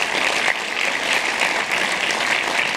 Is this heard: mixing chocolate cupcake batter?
no